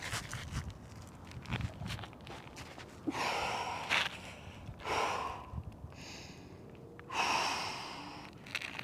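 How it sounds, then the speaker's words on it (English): Deep, audible breaths during a backbend exercise, several long inhales and exhales with rasping nasal bursts, close and fairly quiet over faint background rustle. "breathing deeply."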